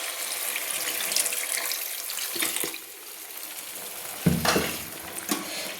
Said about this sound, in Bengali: এবার আমি জল অ্যাড করে দিচ্ছি।